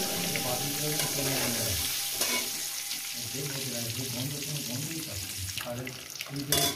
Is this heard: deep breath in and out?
no